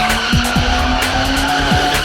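A car drifting in Soweto township screeches its tires in loud, sustained squeals that bend and repeat, with the engine droning close and continuous underneath.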